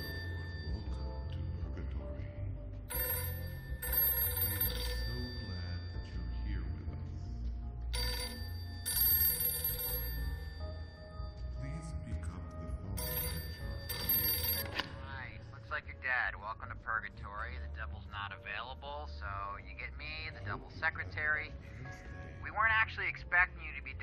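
A telephone rings in the Rick and Morty: Virtual Rickality VR game, sounding in several loud bright bursts separated by pauses, and a voice talks over the later part.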